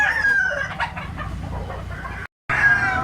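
A Lemon 84 bloodline bullstag rooster with blue legs crows loudly and close by, its long call cut off by a short gap before a second crow begins.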